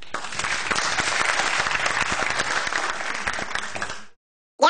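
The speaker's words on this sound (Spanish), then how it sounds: "un aplauso para todos" A crowd breaks into loud, dense applause, a sustained burst of many hands clapping close by that cuts off suddenly near the end.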